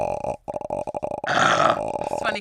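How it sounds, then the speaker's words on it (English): A drawn-out, guttural burp-like croak from someone in a podcast setting, stuttering in short pulses before a longer raspy stretch, close and fairly loud. "I had to burp so bad"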